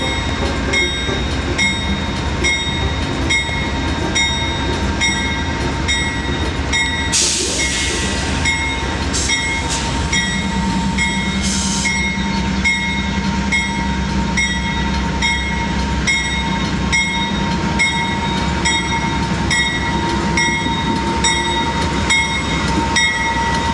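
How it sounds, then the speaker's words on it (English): Amtrak's California Zephyr pulls out of Grand Junction station, its steady, loud rolling rumble with a sustained engine drone carrying on throughout, broken by a couple of brief bursts of hissing noise. "At 4:43, the Zephyr departs Grand Junction, and it would head to Emeryville."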